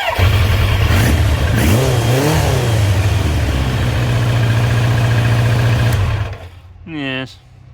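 Engine of a Kawasaki GPZ900R barn-find motorcycle running loud and close, with a steady low drone, a brief rise in revs near the start, then a cut-off before a short tonal sound near the end.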